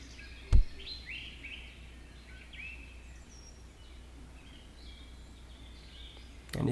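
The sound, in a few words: birds chirping in Second Life forest ambience, video game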